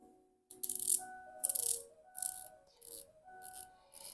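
An Omega Seamaster 300 watch rattles in a series of short metallic bursts, close and quiet, with a faint ringing tone between the uneven clusters.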